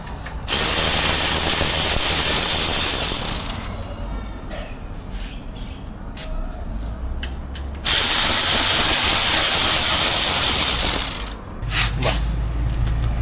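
A ratchet tool loosens screws on a BMW part, with long stretches of continuous close, loud mechanical clicking separated by a quieter stretch of handling.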